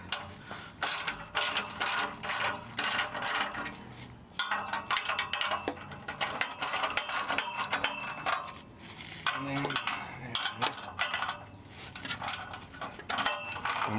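Ratchet wrench with a 15 mm socket loosening the fuel sending unit bolts on a C6 Corvette, a steady run of fast metallic clicking bursts, close and loud, continuing with brief pauses and no talk.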